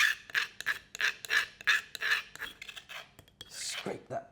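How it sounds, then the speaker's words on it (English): Metal spoon scraping turmeric marinade from a pestle and mortar while making turmeric and dill fish: a run of short, rhythmic rasping scrapes close up, each stroke bright and gritty, with a longer drawn scrape near the end. "Scrape that pestle and mortar."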